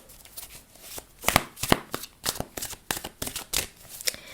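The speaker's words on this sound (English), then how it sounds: "So I'm just going to pull some of these crystal oracle cards." Crystal oracle cards being shuffled up close, a quick irregular run of crisp riffling snaps and flutters, loud and alone without talk.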